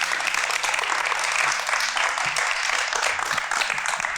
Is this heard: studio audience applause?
yes